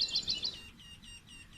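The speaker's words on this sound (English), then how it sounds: "Beautiful birds." Small birds chirp close by outdoors, a quick burst of high bright tweets followed by fainter repeated chirps.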